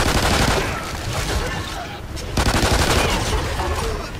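Sustained turret gunfire rattles loudly and continuously in the video game MAYDAY Extinction, a dense barrage with a brief dip midway, with a player's voice over it.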